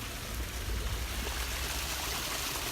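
Stream water flows steadily past a wooden measurement site, a continuous broadband rush and trickle, close and even, with no voices.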